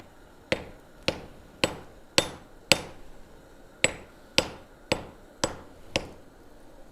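Eleven evenly spaced, ringing hammer blows strike hot metal during forging, each a sharp close clang with a brief decay, in a steady rhythm of about one every half second.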